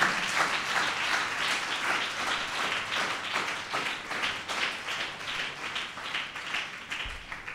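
A congregation at a sermon breaks into loud, sustained applause, many hands clapping together in a steady dense roar with faint rhythmic pulses, filling the hall without pause.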